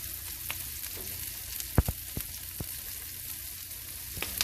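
Chopped onions frying in a pan give a soft, steady sizzle, broken by several sharp clicks and scrapes as they are stirred.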